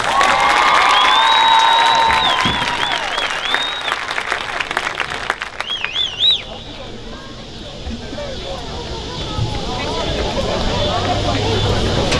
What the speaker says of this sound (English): let us give row 4 a round of applause